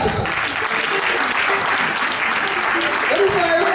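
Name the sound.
audience clapping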